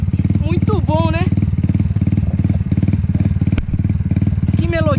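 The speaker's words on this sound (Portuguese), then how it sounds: "As motos da Indonésia, né? Da Tailândia." Motorcycles from Indonesia and Thailand idle with a loud, close, steadily pulsing engine throb, while a voice briefly speaks over the running motor.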